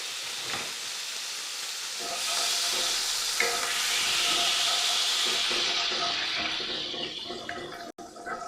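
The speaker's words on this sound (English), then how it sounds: "A little bit of wine to help deglaze. This will help clean up the pan too." Wine poured into a hot pan to deglaze it, bursting into a loud broad hiss of sizzling and steam that holds steady for several seconds, then tapers and crackles as it settles, close and alone.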